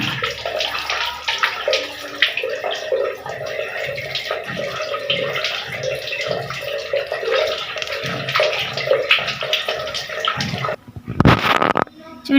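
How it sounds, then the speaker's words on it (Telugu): Hands washed under running water from a tap, a close, steady splashing and gurgling that breaks off near the end with a brief louder gush. "ఇప్పుడు వాష్ చేసుకొచ్చి మీకు చూపిస్తాను"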